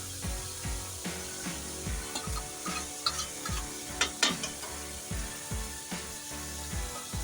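Chicken, tomato and spices sizzle and fry in a pan for kadu chicken while a utensil stirs them, giving steady frying crackle broken by regular scraping strokes, close and moderately quiet.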